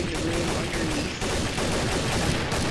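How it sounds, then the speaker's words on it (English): Rapid gunfire from automated turrets in the video game Half-Life rattles in quick overlapping bursts, fairly loud and busy, with no talk over it. "there's like so much gunshots going on"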